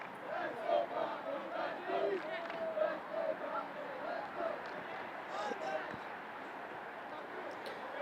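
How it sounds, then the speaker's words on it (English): Crowd chanting at a high school boys varsity soccer game, Saugus against Triton, a distant rhythmic cry from the stands repeating under nearby talk. "I think it's Let's Go Pablo, Let's Go, or something like that from the crowd."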